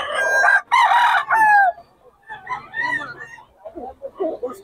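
A young gamecock (stag) crows loudly and close by at a market, with two strong crows in the first second and a half followed by quieter clucking and background voices.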